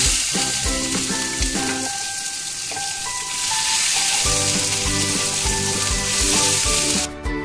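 Chopped onion, sugar, cardamom and cloves fry loudly in a hot pan, a dense continuous sizzle close by, with tonal clatter and scraping from stirring throughout.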